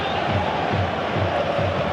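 Football crowd at Celtic Park in PES 2021, a steady, loud roar of massed voices with rhythmic swelling chants, and a commentator speaking over it.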